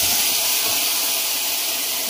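Onion paste sizzles in a hot pan on a gas stove, a steady loud hiss that holds evenly throughout.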